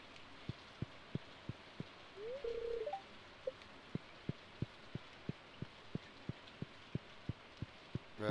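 Soft rain falling in the farming video game Stardew Valley, a quiet steady patter behind a regular series of faint ticks, with a brief tonal chirp partway through.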